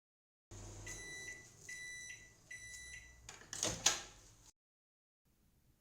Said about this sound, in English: I'll put it back in the microwave for a couple of minutes.